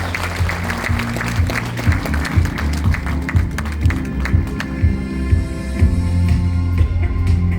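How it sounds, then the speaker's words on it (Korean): An audience at a Korean book launch event in a university hall applauds to welcome a speaker. The clapping is loud and sustained, with a low hum or music underneath, and no talking. "큰 박수로 맞아주시기 바라겠습니다."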